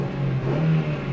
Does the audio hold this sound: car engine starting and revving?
yes